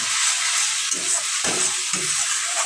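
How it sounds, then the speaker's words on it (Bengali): Spice paste, with its oil separating, sautés in a pan for a jackfruit kofta dish, giving a bright close sizzle broken by a few quick spoon scrapes. "মশলাটা আমার হয়ে এসছে ভালো করে কষিয়ে নিচ্ছি আর একটু"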